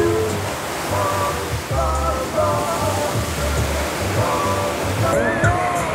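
Ocean surf at Haeundae beach during a surfing contest, a continuous loud wash of breaking waves with a low rumble underneath, while a voice talks over it.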